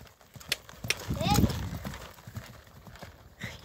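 A pony canters during a riding lesson, its hooves beating a few quick clip-clop strikes with a louder thud mid-clip, while an instructor speaks over it in an outdoor arena.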